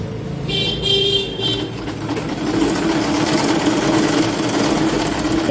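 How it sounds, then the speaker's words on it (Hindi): Sewing machine stitching underwear fabric runs steadily and loud, close by, its motor whir continuing throughout without pauses and no voices over it. "ये सीधा सीधा ऐसे करके सिल लेंगे।"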